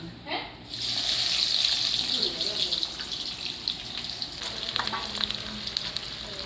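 Onions sizzle in hot oil with bay leaf and garam masala tempering for a village-style chicken dish, a loud steady crackling fry with occasional stirring, and a voice talks faintly underneath.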